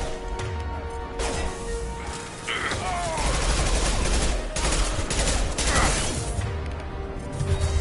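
Gunfire in Mass Effect 2, sharp shots and crashing impacts in bursts with a dense fusillade in the middle, loud and close, with scattered game sounds around it.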